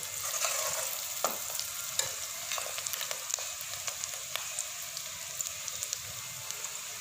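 Onions soften in a pan for an egg and potato curry, crackling in a continuous sizzle while a spoon stirs and scrapes with small irregular taps throughout.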